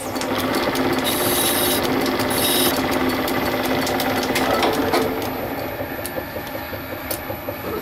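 Drilling up the centre of a small threaded safety valve nut in a workshop with a 3/32 inch drill: a loud, steady machine whine and grinding rasp that eases off toward the end, close up and with no speech.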